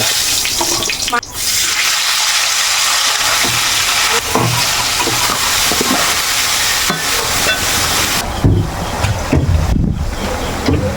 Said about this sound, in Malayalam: കേര വറുത്ത് കോരി എടുക്കാം.